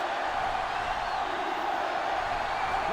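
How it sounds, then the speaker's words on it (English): Stadium crowd noise from the NCAA Football 2005 video game, a steady dense roar of cheering that holds at one level throughout without breaks. "Oh, listen to the crowd."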